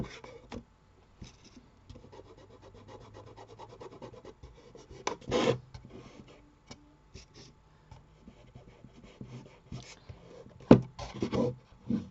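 Patina is rubbed by hand onto the edges of a wooden tissue box, producing soft, close scratchy rubbing strokes with a few louder scrapes and brief breathy sounds.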